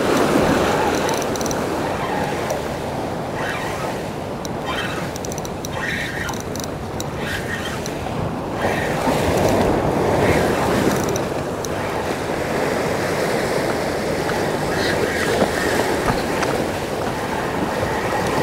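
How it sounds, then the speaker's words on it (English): Ocean surf breaks and rushes over a stone jetty on the New York City coast, a continuous loud wash of crashing waves with wind buffeting the microphone throughout. "those waves are already starting to break over the jetty"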